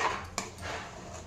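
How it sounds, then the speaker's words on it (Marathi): A spoon scrapes and clinks in a pan as roasted sesame seeds are stirred into jaggery syrup for til ladoo, with soft gritty rustling and one sharp knock. "हे भाजलेले तीळ आहेत हे ओतायचे। हे बघा चांगलं मिक्स करून घ्यायचं"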